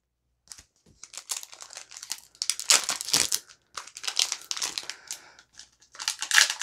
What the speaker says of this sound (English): we're going to open up those Gladiator cards